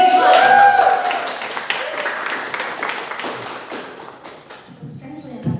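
An audience at a poetry reading applauds, close uneven clapping that gradually thins out and fades, ending with a few murmured voices.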